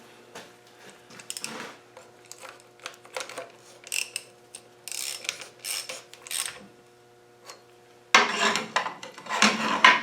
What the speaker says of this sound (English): we're going to turn this wheel until that backlash is gone